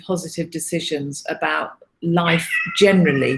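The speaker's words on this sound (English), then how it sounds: "I apologise, that's my cat." A house cat meows during the second half of the clip, with a drawn-out tonal call that mixes with a person speaking steadily in the foreground.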